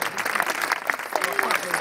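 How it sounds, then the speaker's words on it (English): Concert audience in Luxembourg City applauding the performers: a short burst of scattered clapping with voices talking and calling out over it. "would you just please give them all a big round of applause?"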